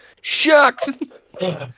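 A single quick sneeze indoors during a tabletop role-playing game session, close and fairly loud, followed at once by casual talk from the players.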